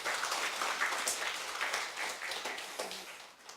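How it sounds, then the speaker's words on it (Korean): A church congregation applauds its choir during a Sunday morning worship service. The clapping is soft and distant, a dense patter that gradually fades away. "우리 다시 한번 성가대를 위해서 박수하겠습니다"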